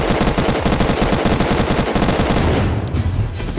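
Rapid, loud gunshots in the Unturned video game, fired in a fast repeating rhythm for most of the stretch, then cutting off into a quieter tail with no talking.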